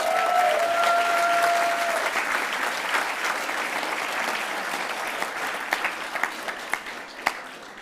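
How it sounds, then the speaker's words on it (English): A large audience applauds at a drama festival awards ceremony, sustained dense clapping that slowly thins, with a few louder individual claps toward the end. "give them a huge round of applause"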